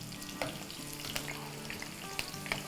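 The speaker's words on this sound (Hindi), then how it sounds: "ये हमारा ऑयल जो है इसमें हमने जो छोटी मोटी वेजीज काटी है इसको हम फ्राई करते हैं।" Small chopped vegetables fry in oil for vegetarian bottle gourd kebabs, giving a soft steady sizzle with a few light spatters and stirring clicks, fairly quiet and close, with no speech.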